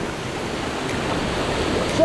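Waterfall on Nile Creek on Vancouver Island, a steady broadband rush of falling water that holds evenly at a close, full level the whole time, with no voices over it.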